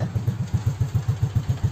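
A Yamaha Xeon scooter engine idles with a low, even putter, regular pulses thumping about seven times a second, steady and close.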